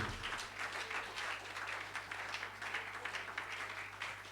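A church congregation applauding together, a dense, sustained wash of clapping from many hands that fills the room evenly for several seconds.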